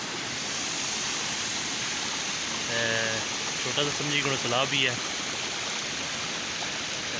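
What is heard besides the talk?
fast-flowing rainwater rushing past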